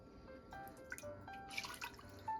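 A cup of water goes into a cooking pot on a stove before the tomatoes, heard as faint splashing and dripping, close and quiet with no voices.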